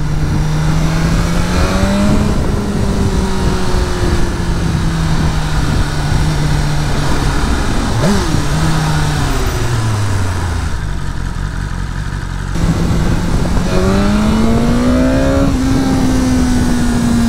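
A four-cylinder BMW S 1000R motorcycle engine revs up loudly and close, its pitch climbing and dropping through gear changes, with one sharp shift around the middle and a brief lull before it accelerates again.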